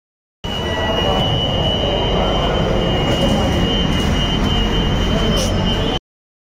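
A Kochi Metro train running steadily, a loud continuous rumble and rolling wheel noise with a faint high whine, starting and stopping abruptly.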